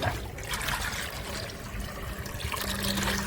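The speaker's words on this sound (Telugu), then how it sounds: "మనం తీసుకొచ్చిన వాటర్ అయితే వేసేద్దాం" Water pours steadily into a pigeon loft with a splashing, trickling rush, close by, and continues throughout without pause.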